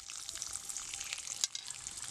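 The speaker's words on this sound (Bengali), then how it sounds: "এগুলো সব একসাথে একটু ভাজতে হবে।" Green peas, Kashmiri green chilli, chopped tomato and spices fry together in a wok for aloo dum, making a continuous bright sizzle with small pops and one sharp clack of stirring.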